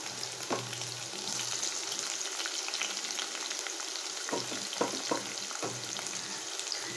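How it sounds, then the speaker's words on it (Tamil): Garlic and onions fry in hot oil, making a constant close sizzle broken by a few sharp clinks and scrapes of stirring, with no talk. "இப்போது எண்ணெய் சூடாகிடுச்சு, நம்ம பூட்டை போட்டுக்கலாம். அதுலேயே வெங்காயத்தையும் போட்டுக்கலாம்."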